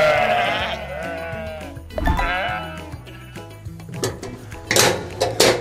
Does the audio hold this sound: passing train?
no